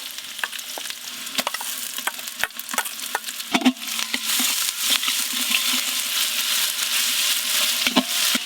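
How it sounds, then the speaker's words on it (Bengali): Chopped onion with ginger-garlic paste sizzles steadily in hot mustard oil for a chicken biryani, the frying growing denser as a spoon stirs and scrapes the pot with irregular clicks. "এই আদা রসুন পেঁয়াজ ভাজা হচ্ছে"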